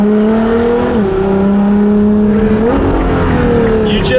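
Ferrari LaFerrari fitted with a straight-pipe exhaust, loud and close, its engine note sweeping down and back up through gear changes as the driver downshifts into first, with a steady roar throughout.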